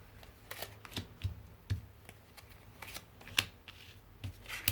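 Tarot cards are shuffled by hand, a soft sequence of brief riffling flicks and taps, close and quiet in a still room.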